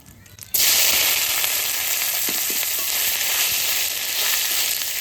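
Cumin seeds, bay leaf and dried red chillies hit hot oil and burst into a loud, sustained sizzle after a brief quiet start, with faint crackles and pops continuing throughout.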